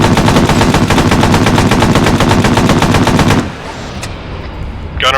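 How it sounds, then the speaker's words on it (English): Sustained automatic machine gun fire in the military shooter game Arma 3, a loud rapid stream of shots that stops after about three seconds, leaving quieter background noise. "they're shooting at us"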